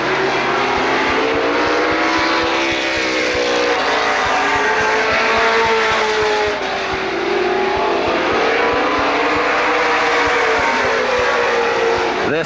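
NASCAR Weekly Racing Series stock cars race at Lorain County Speedway in 2001, a loud continuous roar of several engines rising and falling in pitch as cars pass close by, with a thin trace of tire squeal.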